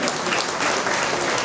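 An audience at a welcome ceremony claps steadily in a dense, continuous burst of applause, close and fairly loud, with no voices over it.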